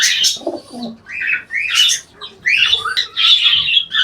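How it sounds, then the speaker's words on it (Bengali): Close pigeons calling in bursts, throaty coos mixed with squawks and chirps, irregular and fairly loud. "এই আমার এক জোড়া লটন কবুতর আছে"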